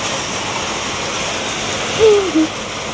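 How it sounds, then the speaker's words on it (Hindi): Heavy rain falls on a rooftop in strong wind, a dense, steady, loud hiss that runs throughout, with a brief high tonal chirp partway through. "इतनी तेज बारिश हो रही है, बहुत तेज हो रही है भाई साहब। हवा भी बहुत तेज चल रही है।"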